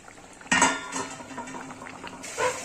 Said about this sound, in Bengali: এবার আমি মাছটাকে দিয়ে দেবো ঝোলের মধ্যে